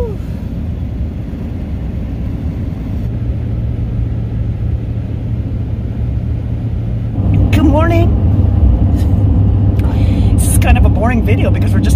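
An RV travelling on the road gives a loud, constant engine and road rumble, close and continuous, with people talking over it.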